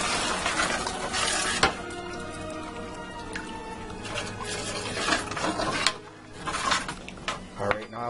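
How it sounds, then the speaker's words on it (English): Milk is stirred in a pot on the stove for a white cheese chicken lasagna sauce, with steady scraping and clinking of a utensil against the pot and a few sharper knocks along the way. "Turn my heat up a little bit, and I'm going to stir this good."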